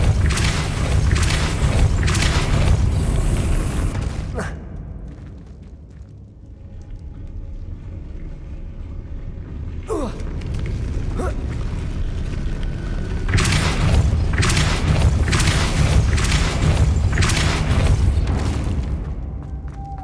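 Depulso spell blasts from the video game Hogwarts Legacy, loud booming bursts with thumping impacts at the start and again near the end, separated by a quieter stretch of low rumble and faint game ambience.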